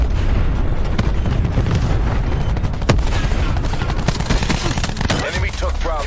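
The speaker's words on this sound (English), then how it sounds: "Cluster grenade." Cluster grenade blasts in Black Ops 4 multiplayer go off as a dense, continuous barrage of overlapping explosions and gunfire, loud throughout with one sharper crack midway and a brief voice near the end.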